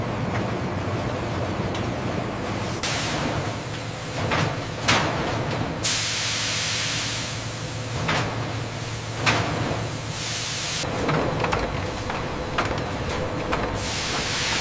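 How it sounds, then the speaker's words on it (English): An immense industrial steam blancher processes washed broccoli florets in a factory, giving a continuous loud hiss and rush of steam over a low machinery hum, with occasional bursts and clanks. "Freshly washed broccoli florets begin their journey through the immense steam blancher."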